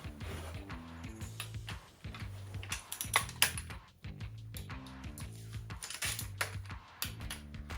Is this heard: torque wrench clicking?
yes